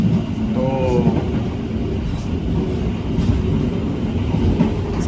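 Train rumble and rail noise on the Ka Ranggajati as it passes Waru station, a steady, loud, continuous roar with faint clatter and a brief tonal squeal, heard from on board.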